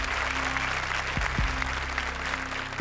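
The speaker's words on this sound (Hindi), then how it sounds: "जोरदार तालियां." Loud, enthusiastic applause from a TV comedy show studio audience, a dense wash of clapping throughout with a few low thumps, no voices.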